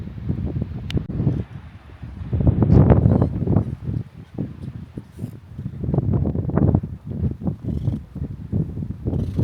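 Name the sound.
wind blowing outdoors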